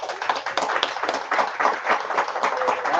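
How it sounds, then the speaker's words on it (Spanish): Audience clapping at a Spanish-language civic debate on housing, steady and fairly close for about three seconds with no talk over it. "Un aplauso, por favor."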